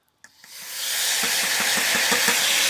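A sharp clatter, then a loud, steady sizzling hiss swells up and holds, with faint rhythmic popping beneath, as spices hit hot oil for a tadka.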